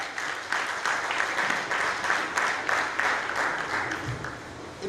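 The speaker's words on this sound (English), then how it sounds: "Can you please give the governor a round of applause?" An audience at a Lagos State youth governance event claps for the governor, a sustained round of applause mixed with some faint crowd voices, steady and fairly close.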